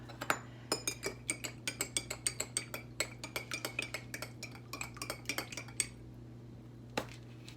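A spoon stirs fine salt into a glass of water, knocking against the sides in a quick run of bright, close clinks that keep a fairly steady rhythm before thinning out and stopping.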